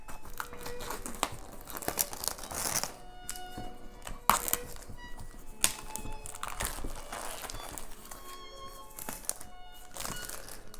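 Cardboard game box being cut open and unwrapped: scattered crinkling, tearing and sharp taps and thunks of packaging, close and irregular, with no talking.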